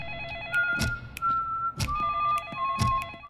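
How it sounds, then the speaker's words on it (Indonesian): Telephone ringing in a dramatized bank robbery and hostage scene, heard as steady electronic ring tones with an alternating warble over a low background, with a few dull thumps and knocks. "polisi mencoba bernegosiasi dengan Om Pai melalui telepon"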